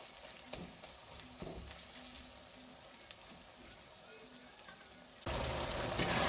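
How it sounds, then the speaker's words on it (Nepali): Biryani masala gravy simmers in a pan with water just added, giving a steady low bubbling sizzle with a few soft clinks, then a louder burst of hissing near the end. "मजाले उम्लिन दिन्छु।"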